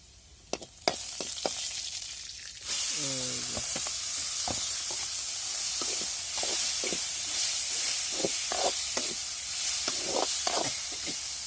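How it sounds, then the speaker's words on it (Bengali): Red amaranth greens drop into a hot pan and break into a loud, steady sizzle, with sharp clicks and scrapes of stirring at intervals, close and alone. "এখন শাকগুলো দিয়ে দেওয়া হচ্ছে, শাকগুলো দিয়ে দিবে এখন, দিয়ে এটাকে এরপর নাড়াচাড়া দেওয়া হবে।"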